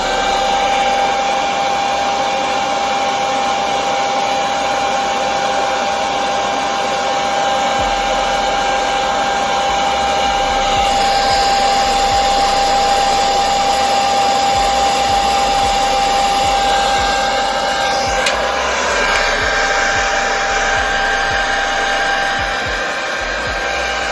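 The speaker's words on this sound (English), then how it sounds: "You want to blow dry and comb it in at the same time" A hair dryer blows steadily on a wig during a 5x5 wig installation, a loud continuous whine and rush of air that holds close for the whole stretch, shifting slightly as it moves.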